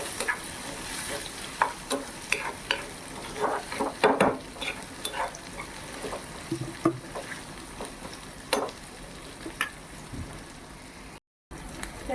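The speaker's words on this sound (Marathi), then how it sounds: "त्याच्यामध्ये टॉमॅटो तर मी सुद्धा खूप सारा घेतलेला आहे तर आत्ता आपण सुद्धा शिजवून घेणार आहोत" Tomatoes cooking in a pan for a creek prawn curry, a steady soft sizzle with occasional stirring scrapes and clicks, close and fairly quiet, with a brief cut near the end.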